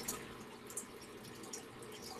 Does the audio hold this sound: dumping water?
yes